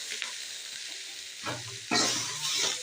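Spatula stirring cooked ponnanganni greens with peanut powder in a pan on the stove, a soft scraping and light sizzle, close by with no talking, growing a little louder toward the end.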